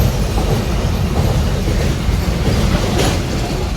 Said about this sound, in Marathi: या गाडीला मालगाडी बोलतात